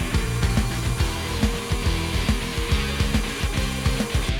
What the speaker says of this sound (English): And then, it's into the grinder.